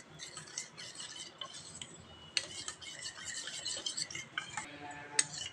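Colored rice batter for maakolam being stirred in a bowl, with steady scraping and light clinks of a spoon against the container, close and fairly quiet, with no voices.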